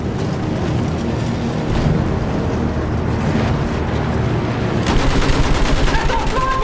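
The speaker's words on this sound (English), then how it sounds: "Use that machine gun! Mow them down!" Machine gun fire in Battlefield 1 rattles in long continuous bursts, mixed with explosions and battlefield rumble. A sharper volley rings out near the end, and no one speaks.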